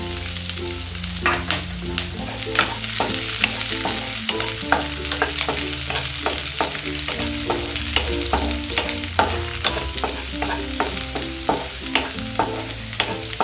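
Garlic sizzles in hot oil in a pan while a spoon scrapes and stirs it in quick, regular strokes, with a steady frying hiss beneath the clinking rhythm and no talking.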